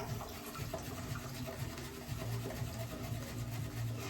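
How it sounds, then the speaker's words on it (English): Water running steadily from a tap as it is added to sandalwood shaving cream, a soft continuous splashing gush with no talking. "So now we'll add some water."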